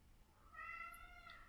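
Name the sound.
cat meowing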